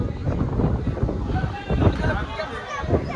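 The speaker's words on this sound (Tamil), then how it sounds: "காற்று பயங்கரமாக அடிக்குதுங்க." Strong wind blasting across a foggy mountain adventure park in Kakkadampoyil, Kerala, buffeting the microphone in rough gusts while people talk nearby.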